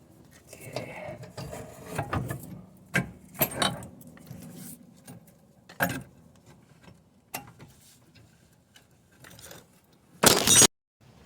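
Rear axle being worked out of a BMW E61 xi wagon: a run of metallic clanks, clinks and scrapes in a quiet garage, close by, ending in a short loud burst of harsh noise.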